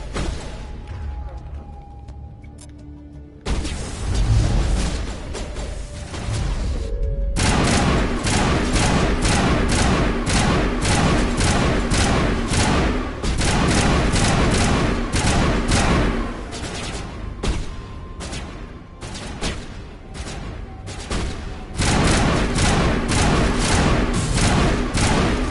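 Explosions and dense gunfire in the video game Mass Effect, a continuous loud barrage of rapid booms and cracks with a few brief pauses, and a voice talking over parts of it.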